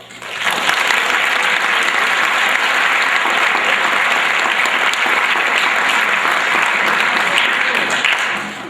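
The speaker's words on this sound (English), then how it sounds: "I think those kids deserve a big round of applause" An audience at a school winter sports awards night gives a big round of applause for young athletes. The dense, sustained clapping runs unbroken for about eight seconds at a strong, even level.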